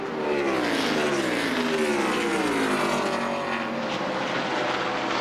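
A NASCAR stock car's engine roars at Pocono during the 2002 Pocono 500, loud and sustained, its pitch sweeping down and back up as the driver shifts through the corner.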